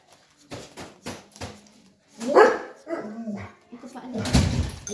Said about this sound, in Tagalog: Ay, ang mga aso anak.